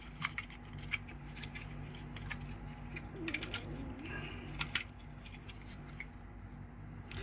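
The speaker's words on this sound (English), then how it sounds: "we will cut a small length of 24 gauge gold wire" Small tools snip a length of 24 gauge gold wire while a wire-wrapped bar ring is made. A few faint, sharp clicks and snips come up over a quiet room hum.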